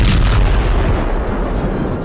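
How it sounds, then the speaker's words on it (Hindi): A missile explosion striking a church in a war zone, heard as a loud, sustained blast with a heavy low rumble filling the whole moment, with no talk. "हिजबुल्लाह के लड़ाकू ने चर्च को निशाना बनाकर एक और मिसाइल दाग दी"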